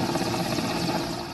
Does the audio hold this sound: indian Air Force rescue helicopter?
yes